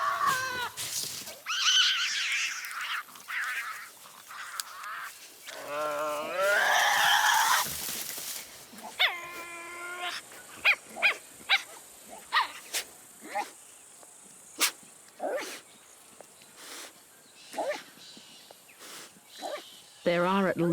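Tasmanian devils vocalizing around food: harsh growls, screeches and wavering cries in bursts, then a string of sharp short yelps and barks over a quiet background, with a narrator talking through part of it.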